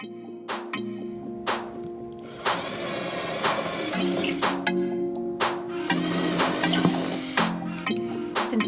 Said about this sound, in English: And now we'll go ahead and drill those holes.